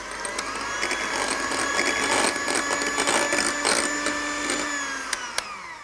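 Electric blender whizzing an egg, yoghurt and grated nutmeg topping for a vegetarian moussaka, a steady close motor whine with shifting pitch that holds for several seconds and winds down near the end.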